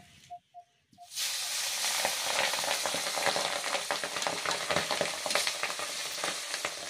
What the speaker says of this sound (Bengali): মাছগুলো তেলে দেওয়ার সঙ্গে সঙ্গে এত ফাটতে শুরু করেছে